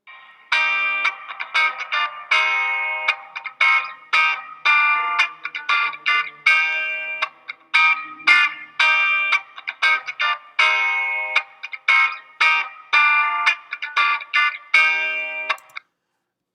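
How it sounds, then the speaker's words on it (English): Guitar part from the verses of a song, played as a bright, effected electric line of rhythmic chopped chords, steady and close throughout with no talking. "So this is just the guitar part during the verses."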